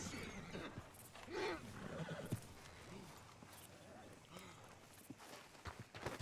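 Horse in Red Dead Redemption 2 gives a whinny and then walks with soft, steady clip-clop hoofbeats, while a voice talks intermittently over the game sounds.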